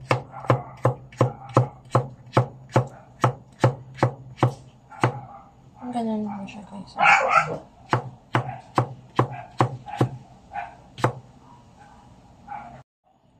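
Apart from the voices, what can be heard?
knife chopping bottle gourd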